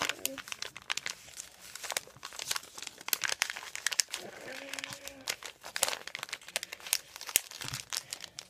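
Paper is folded and creased into a fortune teller, with close, crisp crinkling and rustling in quick bursts and a soft voice speaking faintly underneath.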